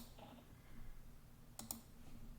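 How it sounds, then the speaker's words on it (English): A computer mouse with a faulty switch that registers each single press as a double click gives two quick, sharp clicks close together, heard near and alone over a quiet room hum. "For some reason my mouse is double clicking"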